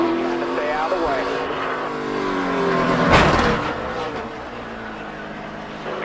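NASCAR race cars in a 2011 race roar past and spin with tire squeal, a loud surge of engines peaking midway with a sharp impact-like crash, amid radio chatter.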